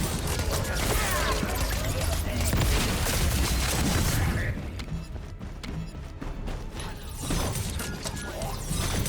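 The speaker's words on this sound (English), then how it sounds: "Assault turret activated." Assault turret firing in The First Descendant during a Jayber build, a dense, loud stream of mechanical clattering shots and booms that drops in intensity midway, then picks back up.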